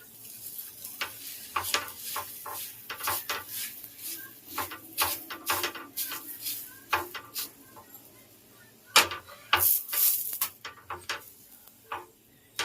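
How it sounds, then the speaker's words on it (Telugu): A chapati roti cooking in oil on a hot pan, with soft, intermittent sizzling and sharp clicks and taps of utensils against the pan, close by and fairly quiet, no talk. "మళ్ళీ కొంచెం ఆయిల్ వేసుకుందాం. ఒక రోటీ వేసేద్దాం."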